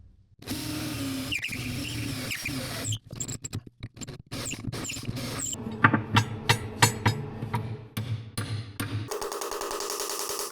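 A handheld drill whirs steadily, then chatters in short stuttering bursts as it bites into metal, ending with a brief higher-pitched whine.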